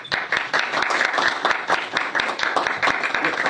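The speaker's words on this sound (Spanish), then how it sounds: "Un aplauso." Audience applause following a research talk at a university lecture series, a dense steady patter of many hands clapping at moderate volume throughout, with a faint voice underneath.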